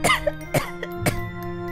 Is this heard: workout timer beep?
no